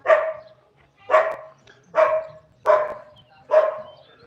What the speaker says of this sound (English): a few dogs around the place